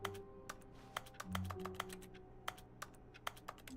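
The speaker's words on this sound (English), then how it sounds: "Why is it making keyboard noises?" Rapid keyboard typing in the video game The Stanley Parable, a string of sharp clicks at an uneven pace, faint and close, over a low background hum.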